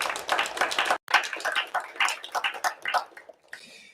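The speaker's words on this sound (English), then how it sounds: "Great applause for them." A small crowd at a WarsawJS JavaScript meetup claps for the organizers in loose, uneven bursts that thin out toward the end, where a voice briefly starts up.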